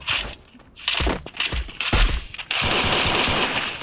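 Rapid automatic gunfire from a mobile shooter game comes in short bursts, then a sustained stream of shots, loud and close with brief gaps between volleys.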